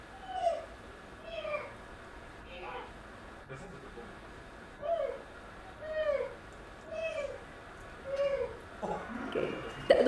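Members of an audience vocally imitate a sad cat in pain as foley for a game soundtrack, a series of about eight drawn-out, mournful meow-like wails repeated in a steady rhythm against a murmuring crowd.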